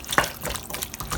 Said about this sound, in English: And let's add a cup of water to this